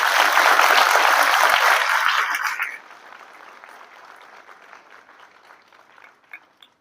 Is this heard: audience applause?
yes